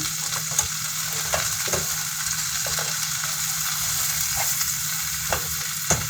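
Cabbage with butter, salt and pepper frying in a pan alongside cooking beans, giving a steady loud sizzle with occasional sharp pops and stirring clicks throughout, with no talking.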